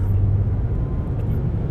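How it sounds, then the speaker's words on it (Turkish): An Audi e-tron GT electric car accelerates hard from a standing launch, heard from inside as a loud, close, steady low rumble of road and drivetrain noise that lasts under two seconds. "Sol ayak fren, sağ ayak dip gaz ve freni bıraktım."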